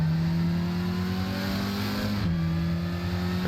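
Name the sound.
Porsche 924 race car, 2-liter 4-cylinder engine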